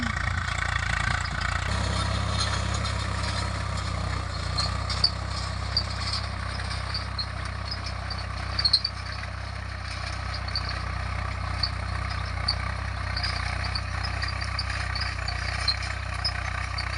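A tractor plowing a field gives a steady, low engine drone throughout, even and unbroken, with a faint high insect-like chirping above it.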